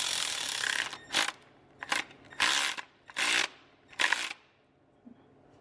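An electric ratchet tightens the diesel injector hold-downs on a 2004.5 Cummins in five short whirring bursts separated by brief pauses, loud and close, then falls quiet.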